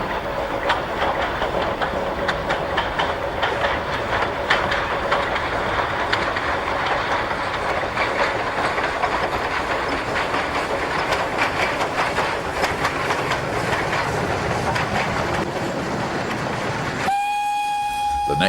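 A steam train on a Portuguese line in 1973 rumbles past continuously, wheels clattering in a busy rhythm, then a sharp whistle blast rings out clearly near the end.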